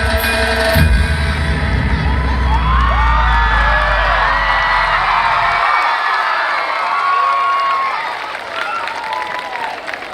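A school or college fest audience cheers and applauds loudly after an energetic stage performance on nature, with crowd noise, whoops and shouts sustained throughout and easing slightly toward the end.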